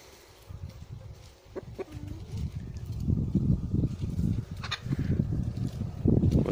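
A small backyard flock of four hens and three roosters clucking and scratching nearby, with soft irregular calls over rustling ground noise.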